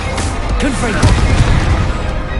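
Confringo fire blast spell going off in the Hogwarts Legacy video game: a loud, dense burst and boom under a shouted voice, with crackling debris and a rumbling tail.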